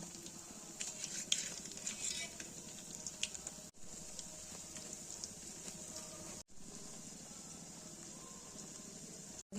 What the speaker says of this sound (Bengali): তেলটা গরম হয়ে গেছে, একটা একটা করে ভেজে নেব